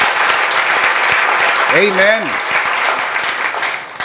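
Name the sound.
congregation clapping in praise to the Lord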